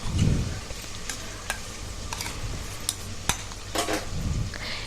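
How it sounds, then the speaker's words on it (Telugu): Onions frying and being stirred in a pan for goat head curry, a steady sizzle under several sharp scrapes and clinks of a utensil against the pan, close and fairly quiet, no talking. "ఇది కూడా ఆనియన్ పచ్చితనం పోయేంత వరకు అయితే మంచిగా వేయించేసుకోవాలి."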